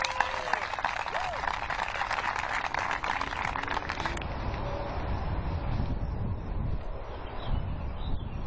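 A crowd at a disc golf tournament claps for a player being introduced, a dense rush of applause that cuts off sharply partway, leaving gusty wind buffeting the microphone outdoors.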